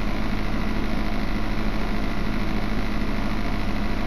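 Rocket riding in Fortnite, a steady droning engine-like rocket rumble held evenly throughout with a constant high whine, no voices.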